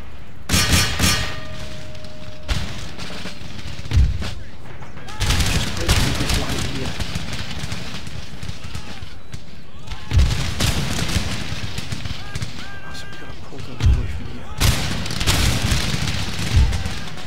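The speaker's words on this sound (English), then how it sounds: "Their artillery, their accuracy in their artillery is quite breathtaking" Repeated booming volleys of artillery and musket fire in Empire: Total War, sounding in loud clustered bursts with crackling rattles between them over a steady battle din.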